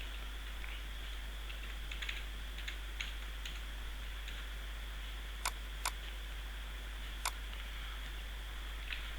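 Faint keystrokes on a computer keyboard during accounting data entry, soft irregular taps with a few sharper, louder clicks over a steady low hum.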